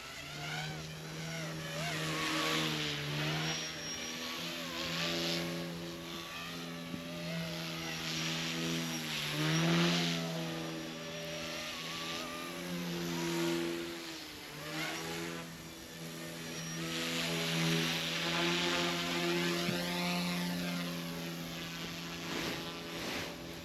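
A small drone lifts off and flies nearby, its propellers giving a loud, continuous buzzing whine that rises and falls in pitch as the throttle changes.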